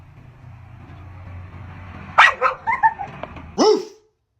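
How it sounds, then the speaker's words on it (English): A pet dog gives a short run of sharp barks and yips, close and loud, after a quiet stretch of low background rumble, ending with one final bark. "Bark at your dog."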